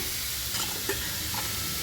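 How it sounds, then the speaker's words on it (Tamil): Ingredients for urad dal adai sautéed in a pan over low heat: a soft, steady sizzle and frying hiss up close, with a few faint stirring scrapes and no talk. "அடுப்பை குறைச்சி வச்சு சும்மா லேசாக ஒரு வதக்கினா போதும்"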